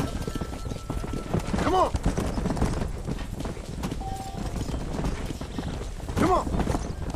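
Horse hooves clip-clop steadily through a Red Dead Redemption ride out to the pasture, with a couple of short whinnies and a brief spoken line over the steady gait.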